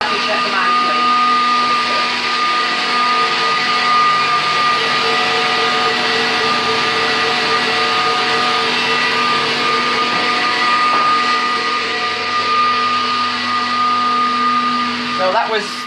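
An electric mixer whirs continuously while beating lemon meringue, a steady high motor hum with a constant tone close by throughout.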